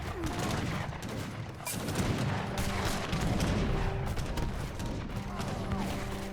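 A dense Age of Empires 3 battle rolls on with overlapping artillery booms and volleys of gunfire, a busy, loud barrage of repeated blasts and crackling shots.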